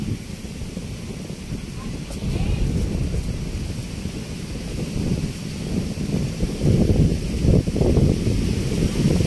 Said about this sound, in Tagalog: sobrang lakas pa rin po ng hangin at ulan dito